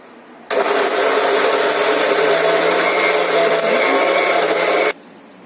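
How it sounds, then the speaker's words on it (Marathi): Kitchen mixer grinder whirring as it blends a cooled masala into gravy paste for a cashew curry, a loud steady motor drone that starts abruptly, runs about four seconds without pause, then cuts off. "आता हे आपण वाटण मिक्सरच्या भांड्यामध्ये त्याची ग्रेव्ही बनवून घेऊ"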